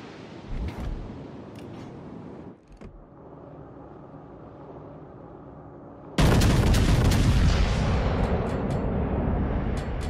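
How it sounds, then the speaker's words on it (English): Battleship guns fire in World of Warships Legends, first as scattered distant booms and rumble, then a sudden loud sustained roar of heavy gunfire and blasts in the final seconds, with no speech. "All stations, concentrate fire on the target."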